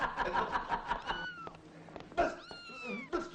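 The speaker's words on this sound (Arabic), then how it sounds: "القطه القطه راحت فين؟" A cat meows several times in a rising, drawn-out way amid indoor scene sounds from an Egyptian Arabic film, with brief laughter-like bursts between the cries.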